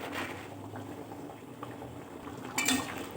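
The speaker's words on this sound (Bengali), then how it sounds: "ঝোলটা ফুটতে শুরু করেছে" Potato curry gravy for a jalpai alur dom simmers in a pot, a soft steady bubbling and burbling close by, with a brief clink of utensil against the pot near the end; no one speaks.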